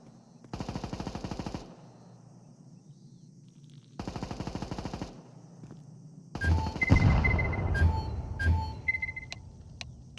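Bursts of rapid automatic gunfire from a shooting video game, two sustained volleys followed by a louder chaotic stretch of shots and explosions, with no talk over it.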